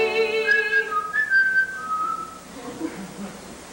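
A person whistles a short melodic phrase of sustained tones near and clear, fading after about two seconds into quiet background.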